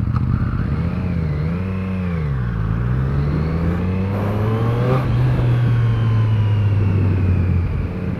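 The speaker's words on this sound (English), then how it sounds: "I hope you guys can hear the engine noise because it sounds really sweet." A 2021 Triumph Street Triple RS motorcycle engine revs and pulls steadily while being ridden, its tone rising and falling through the gears, loud and close with a continuous drone throughout.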